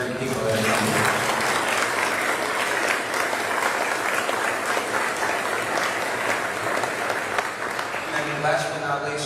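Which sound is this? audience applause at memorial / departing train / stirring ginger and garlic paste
audience applause at memorial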